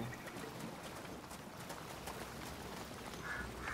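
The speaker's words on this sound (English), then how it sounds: "Oh, what are those birds? Dock here. Ducks." Ducks quack faintly in A Plague Tale: Innocence, a soft call or two barely rising above steady watery ambience.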